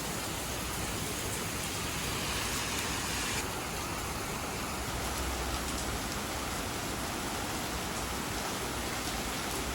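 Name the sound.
heavy rain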